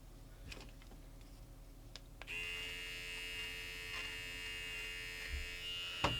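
A handheld electric stitch eraser buzzes steadily as it unpicks dense embroidery stitching from fabric, starting after a few soft clicks and running continuously and close up to the end.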